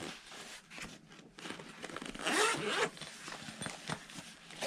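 Zipper pulled open on the carry bag of a Shadow Systems MR920 pistol, one close, rasping unzip in the middle amid soft fabric rustles and handling, no talking.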